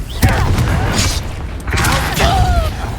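In the video game Hogwarts Legacy, the Confringo blasting spell sets off loud explosive booms with creaking, mechanical rumble. A shouting voice briefly cuts in among the blasts.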